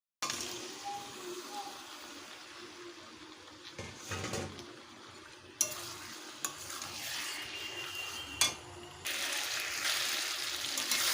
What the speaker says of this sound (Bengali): এবারে দিয়ে দেব ম্যারিনেট করা মাংসটা